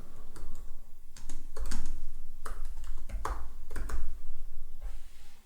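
Typing on a computer keyboard while entering a longer text string in a Python program, with bursts of clustered key clicks and brief pauses between them, close and clear, with no talk.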